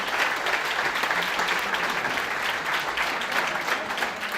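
Prisoners in Milan applaud Pope Francis during his pastoral visit, a dense, steady crowd applause that stays loud and continuous throughout with no speech over it.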